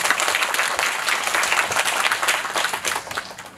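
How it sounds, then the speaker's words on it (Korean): An audience claps at a special guest-visit screening of a panda documentary at CGV Yongsan, a dense, sustained round of applause from the seated crowd with no one speaking over it. "박수 한번 부탁드립니다."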